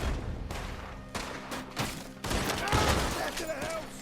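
Gunfire erupts in a Red Dead Redemption 2 shootout, with several sharp, loud shots and bursts spaced across the clip and a busier stretch of overlapping reports near the end. Voices and game sounds mix in.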